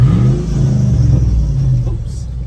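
A work truck fitted with a swapped Hemi V8 engine revs up, a loud close deep rumble that rises and then eases off, heard alone without talk.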